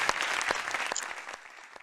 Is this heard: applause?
yes